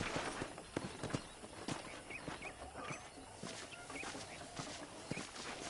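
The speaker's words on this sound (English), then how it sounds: "let's see if you can still ride a horse." Horse hooves clatter along in an uneven rhythm over a busy, faint background of ambient noise, with soft scattered thumps, in the video game Red Dead Redemption.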